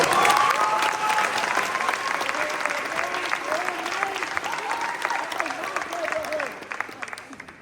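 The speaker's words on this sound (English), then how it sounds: "let's just give them another round of applause" Audience applause at a high school graduation ceremony, a dense round of clapping filling a hall, loud at first and gradually thinning out, with a voice talking faintly beneath it.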